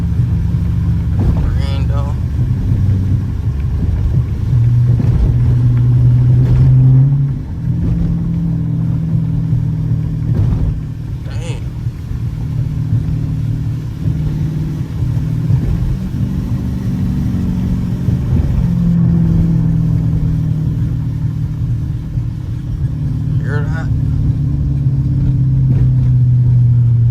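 Dodge Challenger R/T engine droning steadily from inside the cabin while driving with paddle shifters, a loud low hum with slight rises and dips as it downshifts, with occasional faint voices.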